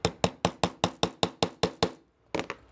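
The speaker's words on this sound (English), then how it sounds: "So we'll go ahead and tap them in. Start with the back one first. Helps if you got a heavier hammer." A hammer taps frame pins into the aluminum and plastic frame of an SCCY CPX-2 pistol, about ten sharp, evenly spaced close strikes, a brief pause, then a few more quick taps.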